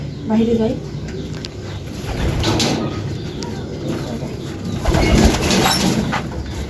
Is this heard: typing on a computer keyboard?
no